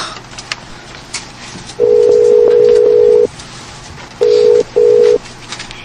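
Telephone number dialed on a phone: a long keypad tone, then two short tones, loud and close, over a quiet background.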